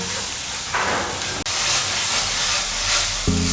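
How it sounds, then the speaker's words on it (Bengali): Masala paste with ginger and garlic paste frying in hot oil for a Bengali katla fish kalia, giving a steady loud hiss and sizzle throughout with a brief clink near the middle and a low tonal sound at the end. "আদা বাটা, রসুন বাটা দিয়ে আরও কিছুক্ষণ ধরে মশলাটা ভালো করে কষে নেব"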